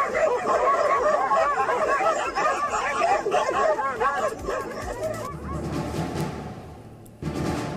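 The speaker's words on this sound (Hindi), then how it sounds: "सड़क पर चल रहे इस लड़के को आवारा कुत्तों ने घेर लिया।" Several stray dogs bark and yip around a boy on a street, loud and overlapping in a busy cluster, with background chatter; the barking thins out toward the end before a burst returns.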